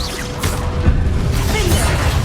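A Confringo spell explosion in Hogwarts Legacy bursts with a loud whooshing boom and crackling debris, filling the moment with dense, close impact noise.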